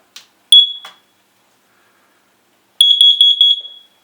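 A smoke alarm being tested chirps a few times, then after a pause sounds a fast series of shrill electronic beeps in sets of three that trails off.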